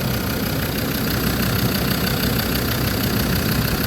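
A Land Rover Discovery 2 with a dead alternator idles in a barn-find setting, a loud, dense, unbroken engine drone heard up close throughout.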